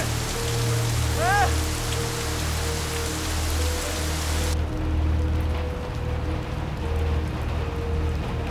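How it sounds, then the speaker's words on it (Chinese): Heavy rain pours down on a stormy day while out driving, a dense, loud, continuous hiss that fills the whole stretch, with a brief faint whistling chirp early on. "就是雨大了点儿。"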